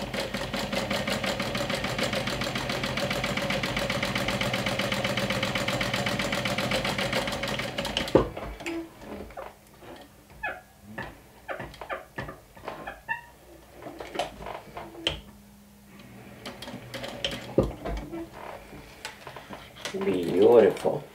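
A sewing machine runs in a steady, fast, close mechanical whir for several seconds while stitching a saddle crossbody bag, then stops, followed by someone talking with small handling noises.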